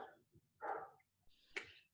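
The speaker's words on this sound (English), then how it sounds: "the big dog is barking in the background" A big dog barking in the background, a few short muffled barks spread over about two seconds, faint and distant.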